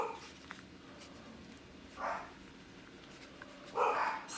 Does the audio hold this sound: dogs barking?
yes